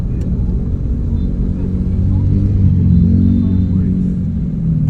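Busy New Year road traffic on a crowded bridge in Bangkok, a steady low rumble of car engines close by, with people talking over it.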